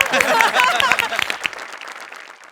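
An audience at a comedy show breaks into a burst of clapping that swells loudly, then thins and fades away over a couple of seconds.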